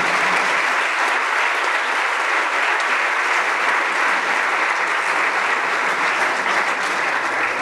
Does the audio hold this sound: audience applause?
yes